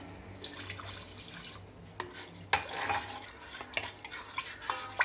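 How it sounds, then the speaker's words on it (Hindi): Water poured into a pan holding chicken shashlik sauce with soy sauce and sugar, a close, splashing pour with a few clinks and stirring sounds, no talk. "अब इसमें हम 1 कप पानी डाल देंगे।"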